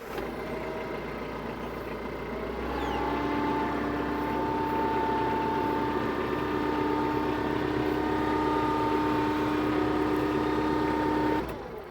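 A TYM tractor engine idles at a steady, loud drone with a constant hum and whine, running nearby without a break and with no talking.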